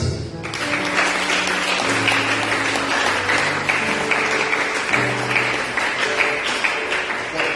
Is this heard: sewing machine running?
no